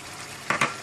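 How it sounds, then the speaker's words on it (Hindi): Chicken frying in a pan for achari murgh, with two short, close sizzling bursts over a steady soft hiss and no voices. "इसको थोड़ा सा भून लें आप"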